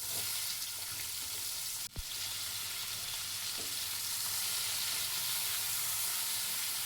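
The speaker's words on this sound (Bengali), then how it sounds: "এরপরে একটা কড়াইয়ে তেল গরম করে লবণ হলুদ মাখিয়ে রাখা চিচিঙ্গা আলুকে সুন্দর করে ভেজে নেব।" Ridge gourd and potato pieces coated in salt and turmeric fry in hot oil in a wok, with a steady sizzling hiss and a brief clank partway through.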